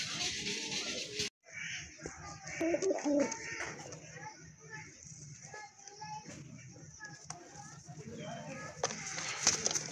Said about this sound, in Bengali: আরেক জোড়া রাজগোল্লা কবুতর মাশাল্লাহ খুবই সুন্দর।